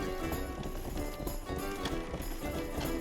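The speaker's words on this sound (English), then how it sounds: "So, as you also can see, horse riding is a bit tricky business." Hooves clip-clop at a quick, uneven gallop as a horse is ridden in the medieval action game Rustler, loud and close over a busy game soundtrack.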